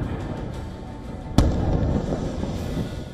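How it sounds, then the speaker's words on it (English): A single sharp explosion from an airstrike on Beirut booms over a steady low rumble, a loud isolated blast followed by sustained rolling noise. "Booms echoed through Beirut."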